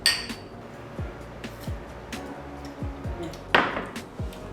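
Glasses clink together in a toast over whisky cocktails, one bright clink standing out near the end among several lighter knocks and taps in a quiet room.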